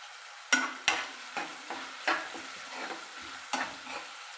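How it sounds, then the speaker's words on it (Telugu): Chopped ginger fries in hot oil for semiya upma while a utensil scrapes and stirs the pan, giving several close, distinct stirring scrapes over a soft, steady sizzle. "కొంచెం ఫ్రై అయితే మూత పెడితే మగ్గుద్ది"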